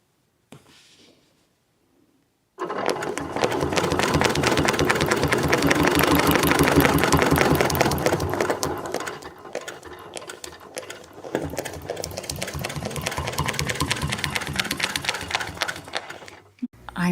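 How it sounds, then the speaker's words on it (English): A sewing machine stitches a quilted spineless feather design, starting after a short quiet pause and then running in a fast, steady mechanical whir with a brief slowdown midway before picking back up, close and alone. "I'm essentially stitching a spineless feather here, one side at a time"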